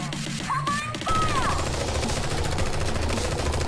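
Automatic machine gun fire in the Strain Tactics video game, a sustained dense rattle of shots filling the scene after a brief lull, with voices talking over it.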